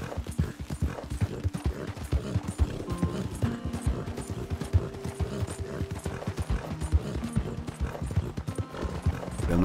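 Steady hoofbeats of a ridden horse in the video game Red Dead Redemption 2, a continuous rhythmic clip-clop at a brisk pace with faint tack and gear rattle, close and alone without talk.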